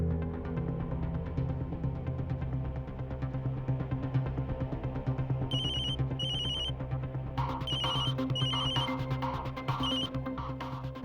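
A telephone rings in bursts of repeated electronic trills over a steady low droning musical bed, the rings arriving in two clusters in the second half.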